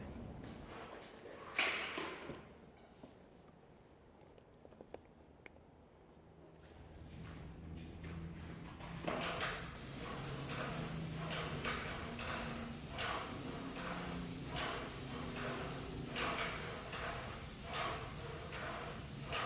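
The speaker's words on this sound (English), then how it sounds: "door being sprayed with a standard 208 tip" Graco airless paint sprayer with a standard 208 tip spraying a door at about 2,400 psi: a steady, close broadband hiss starting midway and running continuously to the end, after quieter handling noises.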